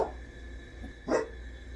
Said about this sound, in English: She's just barking for nothing.